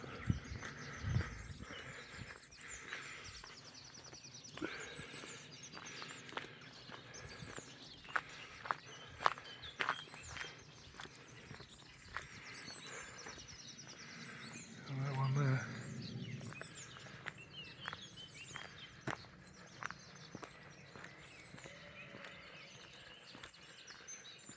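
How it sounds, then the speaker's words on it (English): Faint birdsong and chirps scattered through a quiet spring morning outdoors, with occasional rustles and footsteps nearby. "All the birds are waking up."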